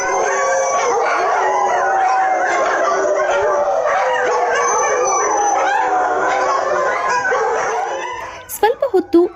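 Stray dogs bark and howl together in a dense, continuous chorus of overlapping yelps and drawn-out wails, loud throughout, with a few sharp separate barks at the very end.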